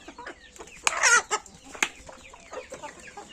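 Chicks, roosters and hens cluck and squawk excitedly at close range while being fed eggs, with a few loud sharp calls amid busy overlapping clucking.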